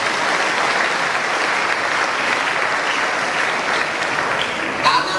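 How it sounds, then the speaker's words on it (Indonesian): A church audience at a testimony service bursts into loud, steady applause, a thick wash of clapping that holds at an even level throughout. "Tepuk tangan dulu."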